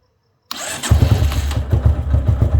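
A motorcycle engine cranks on its electric self-starter, powered by a lithium-ion battery, and catches on the first try after a short silence, then settles into a loud, lumpy, pulsing idle with no speech.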